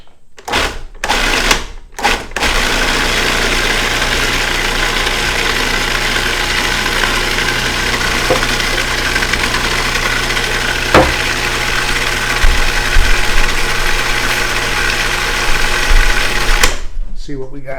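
A blender purees Swiss chard with extra virgin olive oil, starting with a few short stop-start pulses and then running as a loud, steady whirring motor drone for most of the clip.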